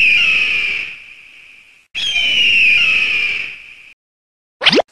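An eagle's shrill screech, heard as two long, loud whistling cries of about two seconds each, followed by a brief sharp upward squeal, with silence between calls.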